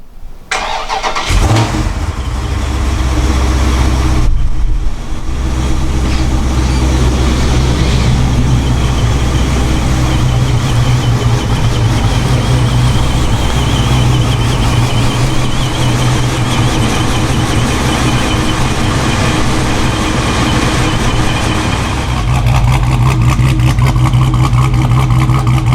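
A Dodge 426 Scat Pack car fires up and drives, its loud, deep engine note droning steadily up close with a low rumble, briefly dipping before settling into a sustained cruise.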